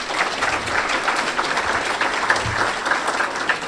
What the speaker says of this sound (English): we owe you a round of applause